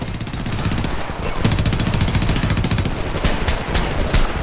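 Rapid automatic gunfire from a weapon in the shooter video game Homefront, a dense, continuous stream of close, loud shots that rattles on without pause for the whole stretch.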